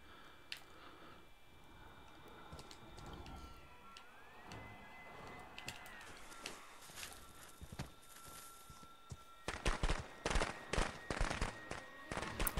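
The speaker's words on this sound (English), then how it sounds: "these bots are definitely some firework happy guys" Bots in the Friday the 13th video game set off fireworks, heard as a crackling, popping barrage that grows denser and louder toward the end over steady in-game background noise.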